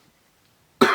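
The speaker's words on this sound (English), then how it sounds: "I was hoping my coughing's not too loud." A single short, sharp cough from someone sick with a flu-like illness bursts out close and loud at the very end after near silence.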